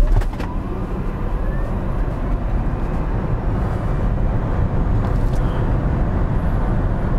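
Kia EV6 electric car accelerating hard from a standstill, a steady loud roar of road and wind noise with a faint high motor whine, continuous throughout with no talk.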